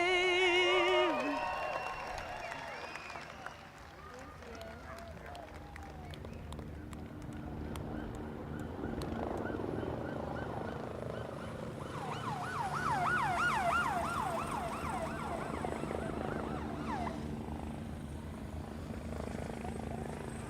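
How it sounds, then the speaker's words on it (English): Texas DPS aircraft 100 and 110 fly over Circuit of the Americas at a GT World Challenge America race. A helicopter drones faintly overhead, a siren wails in the distance, and a murmuring crowd and voices fill the background. "Flyover of Texas DPS 100 and 110 over Circuit of the Americas"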